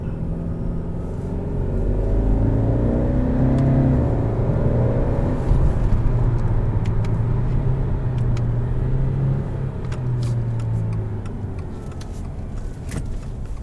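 A 2021 Subaru Legacy XT Touring pulls away in first gear and shifts into second, the engine's loud, close rumble climbing in pitch, dipping at the gear change, then pulling again from inside the cabin.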